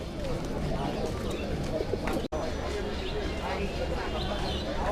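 High flyer pigeons coo softly at a pigeon market in Mirpur, Bangladesh, their calls set against a busy crowd murmur with people talking nearby.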